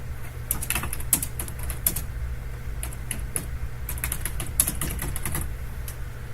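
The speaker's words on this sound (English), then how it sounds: "Lazy typer, Dirk." Rapid, uneven keystrokes on a computer keyboard clatter in short bursts over a steady low hum, with typing on a Calculate Linux Gentoo setup, no voices heard.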